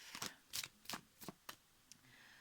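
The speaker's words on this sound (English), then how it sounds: "You know, you see me shuffling, I'm not influencing the cards in any way." Tarot cards being shuffled by hand, five or six crisp riffling bursts at a quick uneven rhythm, close and clear, followed by a softer final flick and quiet.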